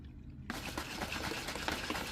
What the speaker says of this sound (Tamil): இவ்வளோ பவுடர் இருந்ததுல தண்ணி கொஞ்சம் தான் ஊற்றிக்கிறேன்